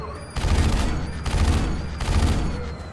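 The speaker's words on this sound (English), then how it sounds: "Let's machine gun it." A video game machine gun fires in three long, loud bursts of rapid shots, each split from the next by a short pause, all close up and dense.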